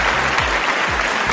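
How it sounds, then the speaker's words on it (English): Audience applause at a comedic stage performance, a loud continuous patter of many hands clapping, with a couple of brief low thumps underneath. "thank you for the applause"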